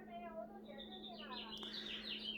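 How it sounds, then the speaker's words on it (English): Birds chirp and tweet outdoors in a quick series of faint, high calls over a low steady hum, quiet and somewhat distant. "How the birds are going crazy."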